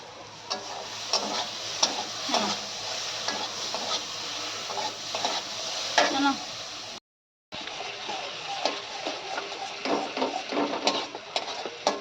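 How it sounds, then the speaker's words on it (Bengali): Steady sizzling of elephant foot yam and stems frying in oil alongside fried rohu fish pieces, with repeated scraping and stirring clicks, briefly cutting out midway before resuming. "আর এটাকে ভালোভাবে এবার ভেজে নেবে"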